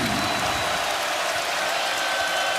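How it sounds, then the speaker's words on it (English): A basketball arena crowd at an Iowa State versus Purdue game roars and applauds after a three-pointer, a dense, loud, unbroken wall of cheering. "Crowd now, after that three-pointer"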